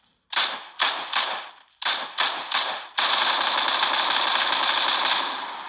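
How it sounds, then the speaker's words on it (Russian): Rapid gunfire in short repeated bursts, then a long sustained stream of shots that slowly fades, loud and close with no talking. "продолжается еще стрельба."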